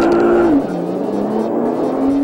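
A Nissan GT-R twin-turbo supercar launches hard on launch control with a loud, close engine roar that drops in pitch at a quick gear change, then climbs again steadily.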